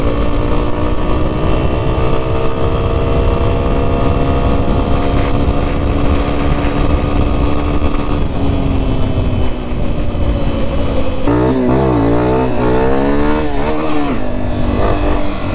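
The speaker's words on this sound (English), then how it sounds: "You turn your key on, you push the button, you don't even have to choke it. It just starts up and goes." The engine of a Honda CRF250F or CRF230F dirt bike runs loud and close, holding a steady drone before its pitch shifts and wavers as it revs and rides on.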